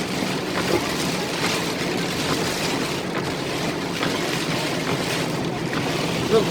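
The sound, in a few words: car driving through flooded road in heavy rain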